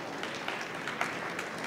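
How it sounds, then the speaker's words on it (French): The audience at the EUROBOIS 2018 trophy ceremony claps for the award winners, a soft, fairly distant patter of hands that holds steady throughout. "Je vous demande encore d'applaudir les lauréats"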